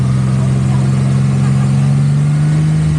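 A supercharged off-road vehicle's engine holds a steady, loud drone in snowy conditions, with a strong low hum running throughout and no pause.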